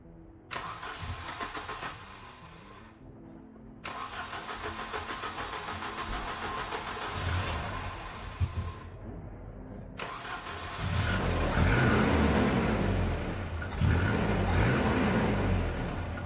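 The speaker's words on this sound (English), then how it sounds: "I'm going to go try and crank it over" An engine fitted with a cheap eBay carburettor cranks over and fires up, with repeated starter bursts followed by the engine catching and running louder, then revving near the end.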